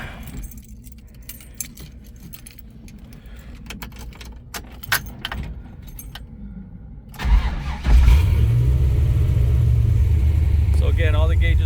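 Keys jangle and rattle for several seconds before a 1968 Chevelle's LS2 V8, fitted with a custom-grind crawler cam, cranks and catches, then settles into a loud, steady idle.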